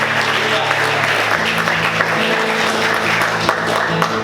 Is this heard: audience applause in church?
yes